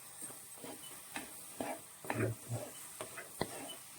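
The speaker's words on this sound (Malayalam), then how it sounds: "ഇനി ഇത് നന്നായിട്ട് വഴറ്റി യോജിപ്പിക്കണം" Chili and coriander powder masala sautéed in a pan for a tomato fish curry, quiet sizzling under soft, irregular stirring scrapes and a few light taps of the spoon, no voices.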